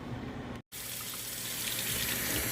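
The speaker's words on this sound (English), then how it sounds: "I'm going to take this over to my sink to rinse the rice until the water that runs out of the bottom of the strainer starts to run clear" Cool tap water gushes steadily through a strainer of rice held under a sink faucet, a continuous close broadband rush broken by one very brief dropout near the start.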